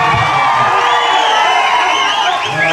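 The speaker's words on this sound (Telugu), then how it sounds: "తమ్ముడు శ్రీనివాస్ రెడ్డి గట్టిగా చప్పట్లతో" A large crowd at a political speech in Parakala cheers loudly, with continuous shouting and whoops in a dense, close roar.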